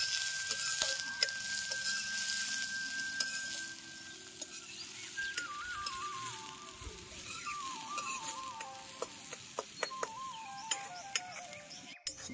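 Millet flatbread rotlo being tempered in a pan, frying with a steady, soft sizzle outdoors in a village setting, with occasional light clinks and ticks over it.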